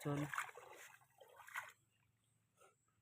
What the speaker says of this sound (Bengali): কলার পাতা পরিষ্কার করে ধুয়ে নেব